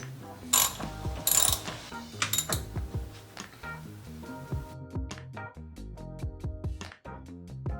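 A hand ratchet tightens the coilover mounting bolts on an Infiniti G35 coupe fitted with BC Racing coilovers, giving rapid, uneven bursts of close metallic clicking with short pauses between strokes.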